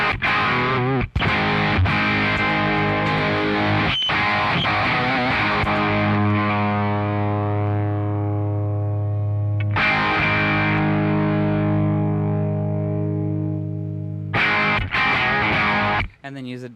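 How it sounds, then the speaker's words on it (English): Electric guitar driven through an overdrive distortion pedal with gain, treble and mids dialed back, strummed chords ringing out loud and sustained, with a brief pause midway and fresh attacks near the end. "use a distortion pedal like an overdrive, or I'm using my agree tone right now"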